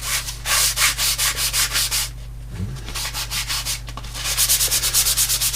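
Washable sanding block rubbed over a painted canvas to flatten ridges, rapid rhythmic scratchy strokes close up, a steady run of back-and-forth passes, a brief pause, then another quicker burst of strokes.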